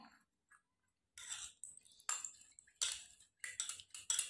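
Skin cream ingredients are stirred in a small bowl, producing quiet bursts of scraping and clinking that come in irregular strokes with short pauses between them. The sound is close and faint, with no speech.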